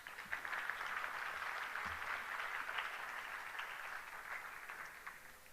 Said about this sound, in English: Let's have a round of applause for Guru Suresh.